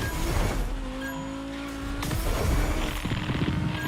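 A car engine in The Crew racing game drones steadily with a faint tire squeal, its pitch dipping and rising across a few seconds of continuous driving.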